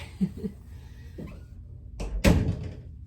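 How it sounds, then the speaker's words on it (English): A bedroom door is pushed shut, with faint shuffling and a dog's quiet noises first, then a sharp closing thump and a final loud bang near the end. "Let me go close my door."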